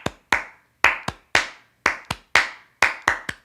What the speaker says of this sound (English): I have the 3 claps in a row